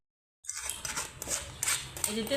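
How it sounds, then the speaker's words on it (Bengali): Tamarind being pressed through a strainer with a metal utensil, giving quick clinking and scraping of metal against a bowl, close up and fairly busy, with no talk. "এই যে তেঁতুলটা একবারে ভালো করে ছাইকা দিলাম।"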